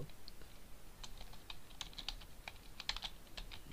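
Keys on a computer keyboard tapped in short irregular bursts of light clicks, quiet and close, with no talking.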